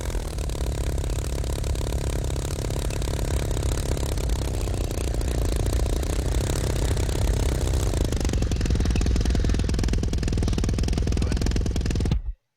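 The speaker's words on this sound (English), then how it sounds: "Kill the engine there with the K key." Aircraft engine in the RealFlight 5.5 flight simulator game drones steadily at a loud, constant level, its pitch dropping slightly partway through before it cuts off abruptly at the end.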